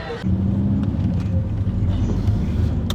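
A car pulls out of an outdoor show's car park, its low engine rumble and road noise steady and close from inside the vehicle, with a voice briefly audible at the start.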